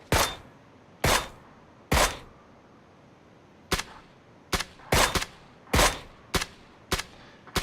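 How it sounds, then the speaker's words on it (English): Silenced Mini 14 rifle shots in PUBG, about a dozen sharp suppressed cracks fired irregularly, some in quick pairs and others spaced apart, each short and snappy against a quiet background with no talking. "So because it's a Silence Mini 14, I take some shots."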